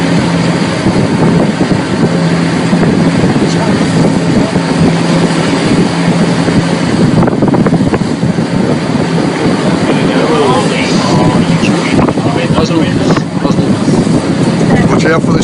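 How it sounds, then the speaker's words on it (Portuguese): Loud, continuous rumbling roar of a volcanic eruption recorded from a boat, with wind buffeting and engine-like noise, steady throughout, with a voice briefly audible beneath it. "Reparem nesse som aqui, ó. É o cara filmando uma erupção de um barco."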